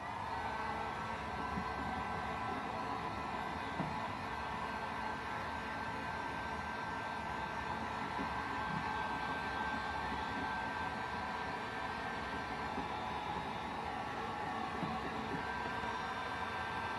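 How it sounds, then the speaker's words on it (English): Heat gun warming up during ATV plastics restoration work, giving a steady, even blowing hiss that holds without change, moderately loud. "Start warming up the heat gun."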